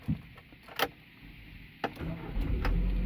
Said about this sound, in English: So let's start by turning on the car.